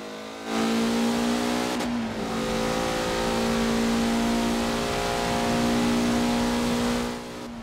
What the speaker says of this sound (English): the more powerful cars are just blowing by me.